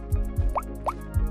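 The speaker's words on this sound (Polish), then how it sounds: "Dźwięk wody mam na lądzie." Water drips and plops in the game GeoGuessr, several soft low thuds mixed with a couple of rising bloopy drops, close and fairly quiet.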